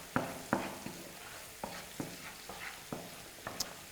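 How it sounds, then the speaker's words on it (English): Spices cooking in a pan while being stirred, about a dozen distinct scraping clacks of a utensil against the pan at an uneven pace over a soft background sizzle, close and alone. "And then just stir it up a bit so that all the spices can just cook in here."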